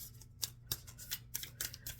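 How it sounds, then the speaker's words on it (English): Tarot cards being shuffled by hand, soft crisp riffling bursts in an uneven rhythm over a faint low hum, close and quiet, with no talking. "I am shuffling for"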